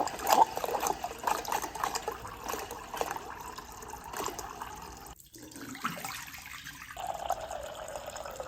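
Water runs from a refrigerator's newly connected water line into a glass, a steady trickling pour that briefly stops and then resumes, moderately quiet with no talk.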